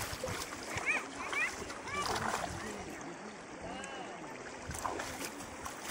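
River water splashes and churns at the Jayanti river in the monsoon as people wade in and throw water, a steady close wash with excited voices talking over it.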